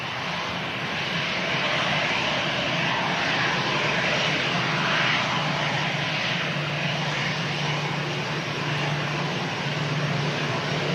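A plane arriving at Manchester Airport from Reykjavik passes with a steady, loud aircraft engine roar, a sustained broadband rush with a droning hum that holds throughout.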